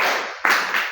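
Short burst of audience clapping at a Hindi riddle quiz, a dense broadband patter with a fresh surge midway, no voices over it.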